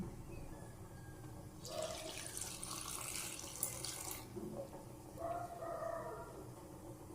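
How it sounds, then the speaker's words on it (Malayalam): Water poured into a cooking pot of dal curry with climbing spinach, a soft splashing stream in two short bursts over quiet room noise, with no talking. "വെള്ളം അത് മതിയാവില്ല, കുറച്ച് വെള്ളം കൂടെ ഒഴിക്കുകയാണേ."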